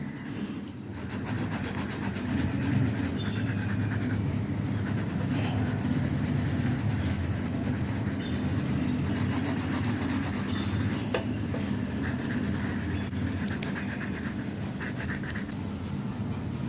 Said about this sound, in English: pencil color, drawing book, pencil color, drawing book